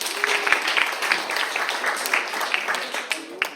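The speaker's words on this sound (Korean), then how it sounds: "다시 한번 큰 박수로 맞이해볼까요?" Audience applause at a corporate social contribution day event held in a district office hall, a steady patter of many hands clapping for a few seconds at moderate distance.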